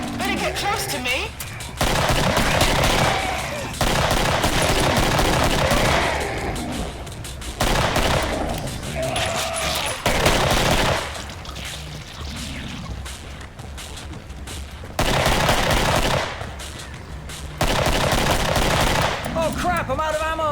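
Loud machine-gun and rifle fire from the video game Killing Floor rattles in long rapid bursts with short pauses between volleys, with occasional crashes and a voice speaking between shots.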